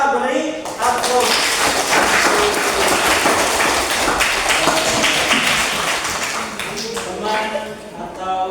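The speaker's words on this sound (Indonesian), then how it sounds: "Mari kita beri aplaus." A classroom full of students applauding, a dense burst of clapping that starts up quickly, holds loud and near for several seconds, then tapers off, with voices around the edges.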